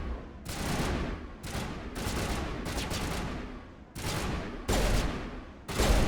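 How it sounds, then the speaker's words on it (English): Dense, loud video game gunfire sounds as sustained automatic bursts, several long volleys of rapid shots broken by brief silent gaps. "What are you shooting at?"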